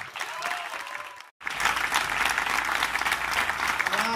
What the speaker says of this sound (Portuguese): quiero un fuerte aplauso muy merecido, muy emotivo, para el mestre Memeu.